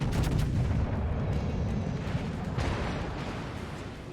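A main gun salvo from the US battleship Iowa in World of Warships rolls out as a heavy, booming blast that fades into a long, low rumble.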